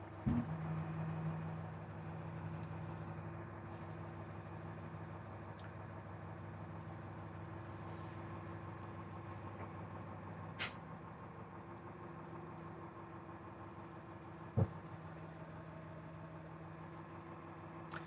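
A 2021 Kenworth T370 dump truck with a 16-foot Neustar box runs its hydraulics to raise the box on a three-stage cylinder, a steady low engine and pump drone with a couple of sharp clanks partway through.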